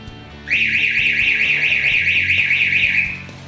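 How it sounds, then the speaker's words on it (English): A loud warbling panic-button siren alarm sounds on its own for about three seconds, rising and falling quickly before cutting off. "the siren alarm is very loud, so you might want to protect your ears a little"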